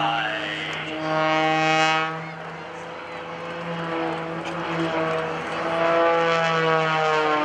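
A propeller aerobatic plane, the Poltergeist, performs at the 2012 NAS Oceana Airshow. Its engine drones and whines, shifting in pitch as it passes, with one louder surge early on and another near the end.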